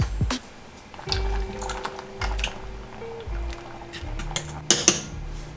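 Vegan mac and cheese being stirred in a pot gives soft, intermittent scraping and clinking taps over a faint steady hum, fairly quiet and close.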